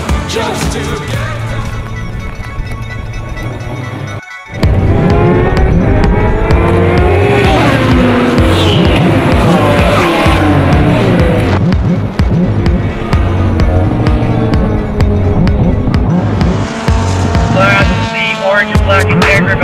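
Race cars on a pace lap at the 2011 25 Hours of Thunderhill endurance race give a loud, continuous engine roar with rising and falling pitch sweeps and a brief dip near the start, heard up close without talk.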